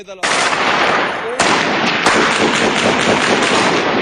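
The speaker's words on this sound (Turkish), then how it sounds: "Silah sesleri duyuldu." Loud bursts of gunfire crack and rattle continuously in Kobani as ISIS nears the Turkish border, with rapid repeated shots blending into a dense, harsh roar.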